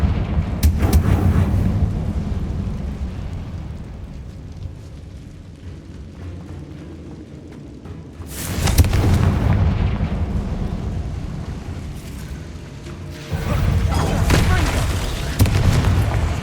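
Confringo spell explosions in the Hogwarts Legacy video game, with loud, rumbling booms rolling out at intervals over a continuous background of game sound.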